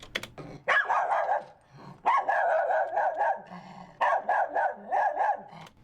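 A miniature schnauzer's barking is slowed and pitched down so it sounds bigger and deeper. It comes in three long bursts of yapping about two seconds apart, close and fairly loud, with low growls in the gaps.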